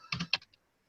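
Quick burst of keystrokes on a computer keyboard while naming a folder shortcut, several close, crisp clicks in a short cluster followed by quiet.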